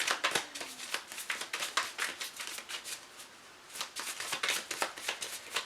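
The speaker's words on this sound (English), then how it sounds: "I'm shuffling my poetry cards to see if my poems have anything to say to you." A deck of poetry cards is shuffled by hand for several seconds, with rapid crisp riffles and flicks of card stock repeating close up in steady bursts, with a brief pause midway and no talking.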